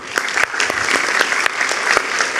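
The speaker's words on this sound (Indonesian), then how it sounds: "kita berikan tepuk tangan dulu" An audience at an economics panel discussion applauds loudly and continuously, a dense close wash of many hands clapping with sharp individual claps standing out.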